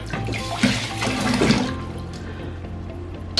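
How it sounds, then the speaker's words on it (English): Salad greens, flowers and squash blossoms lifted out of a bowl of soaking water, giving a close, loud splashing and sloshing rush that fades into dripping and quieter trickles. "So now we're going to go ahead and take them out of the water."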